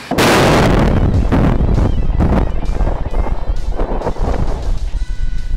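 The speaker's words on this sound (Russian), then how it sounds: "Взрыв." Underground mine blast of explosive charges loaded into drilled holes at a granite working face, a loud, sharp detonation followed by rumbling bursts and clattering debris that slowly die away.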